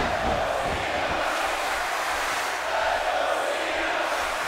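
A large arena crowd at a wrestling event in the WWE 2K18 video game roars and cheers steadily, a dense continuous wall of noise.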